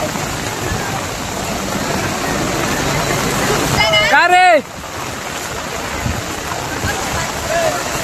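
Heavy rain and floodwater rush through a flooded street near a roadside dhaba and petrol pump, making a steady, loud broadband roar. A person briefly speaks, and a short high whistling chirp rises midway.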